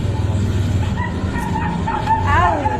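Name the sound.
dog whimpering while being dragged behind a motorbike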